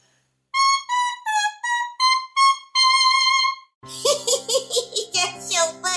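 Bare oboe cane reeds vibrate alone in a series of short, bright, buzzy squawks with wobbling pitch, then a few rapid chirpy bursts that give way to a child's giggling.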